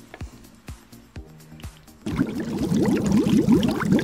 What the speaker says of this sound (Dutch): als je last hebt van je stem of van je keel, bubbelen heel goed kan werken